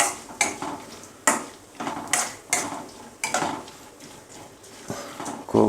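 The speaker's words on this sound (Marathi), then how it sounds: "हळूहळू जसं तेल गरम होईल तसं थोडं थोडं असं खोबरं हलवत राहा" Grated coconut being stirred in a pan of heating oil for chivda: a spoon scrapes and knocks against the pan in irregular strokes over a soft background hiss, close up with no voices.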